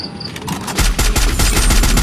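Rapid video-game gunfire in a solo-versus-squad battle royale match, a loud dense burst of automatic shots that starts near the middle and keeps going with quick repeated cracks, with no talking over it.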